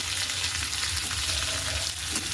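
Potatoes fry in hot oil with a dense, steady sizzle and crackle, close and continuous throughout, with no talking.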